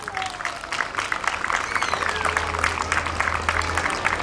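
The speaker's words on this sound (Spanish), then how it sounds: "el aplauso grande para esta salón" Audience applauding in a school hall, steady dense clapping throughout over a low hum, with no clear speech.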